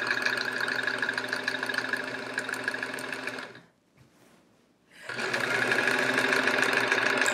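A sewing machine stitching quilt borders, running with a fast steady mechanical whir, pausing briefly for about a second and then starting up again at full speed.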